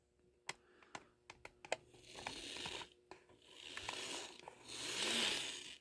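An inexpensive Kato N scale RS-2 model locomotive first gives a series of sharp mechanical clicks, then runs with a soft motor whir and faint rolling hiss that swells and fades, quiet and close with no talking.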